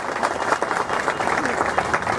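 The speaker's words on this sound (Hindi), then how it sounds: "एक बार जोरदार ताली बजाइए" An audience claps at a public event in Burhanpur, a dense wash of applause that holds steady throughout, with voices faintly mixed in.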